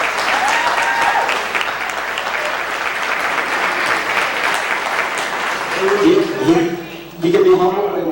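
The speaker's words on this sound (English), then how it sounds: "Give me a round of applause." Audience at a town hall meeting in Crown Heights breaks into sustained, loud applause that fills the room, with a voice speaking over the clapping toward the end.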